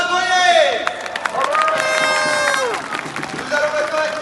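A crowd at a patriotic outdoor rally cheers and claps for a speaker, a dense roar of voices and applause with whistles and shouts rising over it, loud and continuous throughout.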